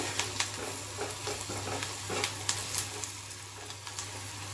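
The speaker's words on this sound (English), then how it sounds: "So first we have to cook this onion nicely." An onion cooks in a pan for a soya chunk cabbage kofta, giving a steady soft sizzle with occasional stirring scrapes and taps, moderately loud with no talking.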